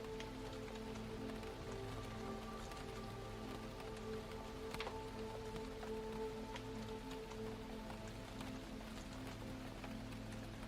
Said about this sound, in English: The distant rain pattering against the windows.